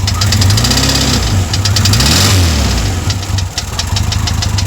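Intermittent engine noise from a 1977 VW Bus Westfalia camper with a new alternator and starter and new crank and cam bearings: a steady low idle with a rhythmic knocking tick that rises and falls, close and continuous.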